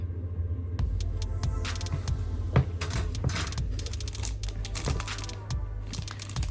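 Clear plastic parts from a Fujimi 1/24 Honda CRX Si car model kit crinkle and crackle inside a plastic bag, with close, irregular rustling and sharp clicks over a steady low hum.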